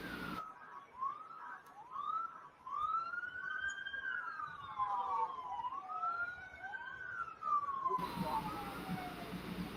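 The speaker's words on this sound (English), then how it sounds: "starting to hear some sirens in the distance" Wailing police sirens in Washington, DC, rising and falling, several overlapping, moderately distant, continuing for several seconds before cutting off abruptly.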